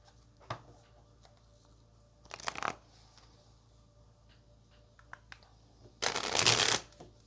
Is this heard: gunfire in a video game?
no